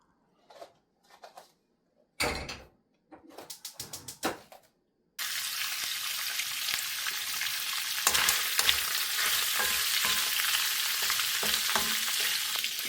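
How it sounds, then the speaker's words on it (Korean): Sliced sausage hits hot cooking oil in a pan after a few short rustles and clatters, then a continuous loud sizzle and stir-fry crackle carries on with scraping stirs. "이 소시지 썰어 놓은 거 먼저 식용유 두르고 한번 볶아 줄게요"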